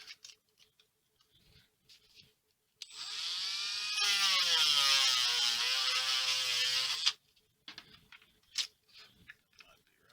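A small grinding bit cleaning up a servo adapter plate makes a high, buzzing rotary whine for about four seconds, its pitch sagging under load and then recovering. Quieter handling clicks and taps come before and after.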